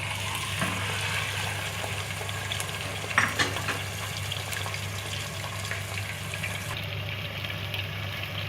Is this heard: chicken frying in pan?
yes